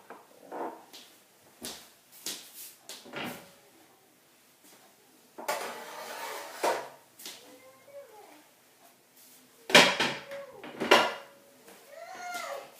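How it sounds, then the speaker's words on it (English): Cheesecake tin pushed into an Aga oven, separate metallic clanks and scrapes with clattering knocks at irregular intervals, a couple of sharper ringing metal hits near the end, and quiet pauses between. "I'm going to push it in the oven now"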